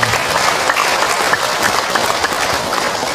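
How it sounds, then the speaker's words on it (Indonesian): An indoor audience at an Islamic lecture claps for a woman who asked a question, a dense, loud burst of many hands that holds steady for a few seconds. "Tepuk tangan buat ibu yang bertanya"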